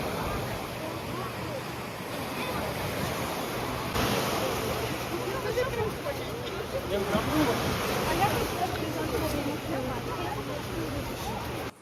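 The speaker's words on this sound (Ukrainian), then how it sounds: "Море сьогодні штормить." Stormy Black Sea waves crash on the beach at Chornomorsk, a continuous roar of surf mixed with wind buffeting that swells and ebbs through the whole stretch.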